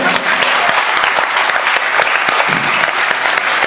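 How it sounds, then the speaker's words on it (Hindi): Guests at a Buddhist-style wedding garland ceremony give loud, close, vigorous applause, a thick continuous burst of clapping with sharp individual claps standing out. "जोरदार तालियों से इनका स्वागत करें।"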